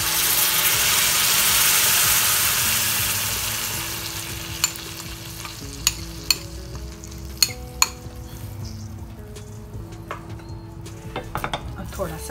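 Yogurt and cream go into a hot pan for a Turkish-style soupy kebab, a loud hiss that fades as the heat dies, followed by sharp clinks of a utensil against the pan.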